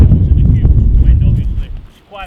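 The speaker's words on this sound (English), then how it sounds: "about 15 mile an hour winds" Heavy wind buffeting a wireless lavalier mic fitted with a wind muff in roughly 15 mph outdoor wind, a loud, constant low rumble that eases off near the end.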